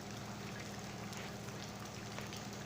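Steady rain falls at night on the University of Malakand campus, a faint, even hiss of drops with no voices.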